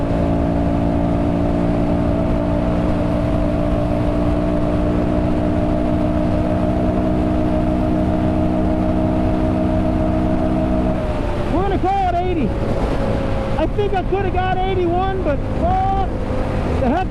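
A Suzuki DRZ 400 dirt bike engine drones at high speed on a top speed run, a steady loud whine that shifts pitch partway through as it pulls harder, with wind rush throughout.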